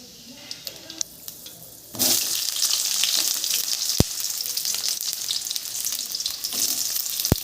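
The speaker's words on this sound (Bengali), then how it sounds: "জিরেটা হালকা একটু ভাজা হয়ে এলেই পেঁয়াজটা ছেড়ে দেব।" Sliced onions hit hot oil already crackling with nigella seeds in a wok, bursting into a loud, steady sizzle after a quieter sputter, with a couple of sharp utensil knocks against the pan, close up and without speech.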